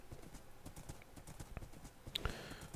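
Horse hooves in the Minecraft video game, a quick run of quiet, evenly spaced clip-clop steps, with one brief sharper game sound near the end.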